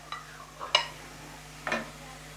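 Fried fish goes into a pan of reddish-browned frying onions over raised heat, giving a few separate clinks and scraping knocks against the pan over a low steady sizzle, with no talk.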